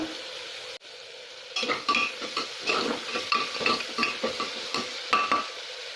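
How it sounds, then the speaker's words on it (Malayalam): Three chopped onions with salt sauté in a pan for meat rice, starting as a low hiss then becoming busy scraping and stirring strokes over a continuous sizzle, close and fairly loud. "ഇനി ഇതിലേക്ക് ഒരു 3 സവോള ചെറുതായിട്ട് അരിഞ്ഞത് ചേർത്ത് കൊടുക്കാം"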